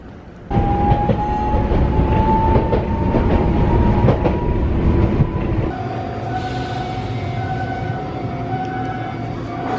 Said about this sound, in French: Nous sommes à la gare d'Enoshima